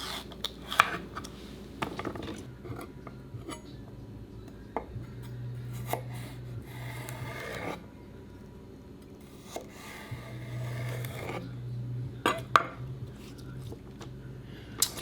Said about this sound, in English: Just going to cut these all up for diced celery.